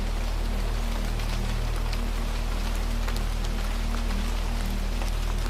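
Steady rain patters against windows in an even, soft wash of tiny taps, with a low constant hum beneath and no voices.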